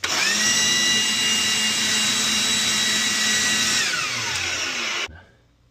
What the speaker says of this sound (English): Final step, I'm gonna wind up using this blower here